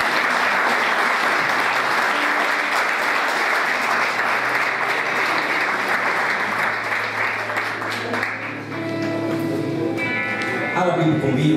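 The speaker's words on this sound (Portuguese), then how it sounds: "Aplauda o Senhor, em nome de Jesus." Church congregation applauding loudly throughout, a dense continuous wash of clapping with music and voices underneath, fading slightly toward the end as a voice comes through.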